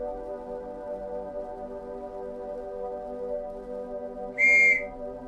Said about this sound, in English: Give a whistle.